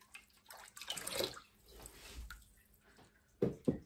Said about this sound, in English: give them a dunk in your sanitizing solution